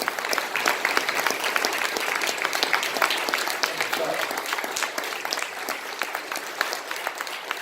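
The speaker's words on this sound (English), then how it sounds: "Let's have a big round of applause for all three panelists." Audience applause at a fatherhood conference, honoring three panelists: steady dense clapping from a large crowd across the whole stretch, moderately loud with a voice faintly audible beneath.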